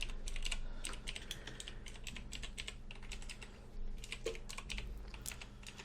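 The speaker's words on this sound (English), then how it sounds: "I'm typing in" Rapid, continuous clicking of fingers typing on a computer keyboard, close and steady for several seconds over a low background hum, with no one talking.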